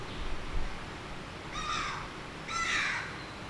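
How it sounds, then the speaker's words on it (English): A crow caws twice, a pair of harsh, evenly spaced calls a second apart, moderately distant over faint outdoor ambience. "like now the crow is singing"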